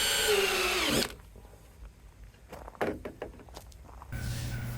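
A power drill whines briefly while pre-drilling a TimberTech composite deck board near its end, stops, and is followed by scattered knocks and shuffling before the drill starts up again.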